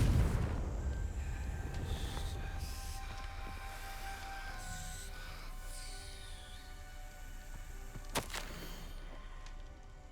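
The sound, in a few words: Confringo blasting spell explosion from video game Hogwarts Legacy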